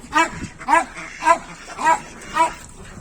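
Pet dogs on a duck-egg farm bark in a steady run of five sharp, close barks about half a second apart, loud and clear with no talking.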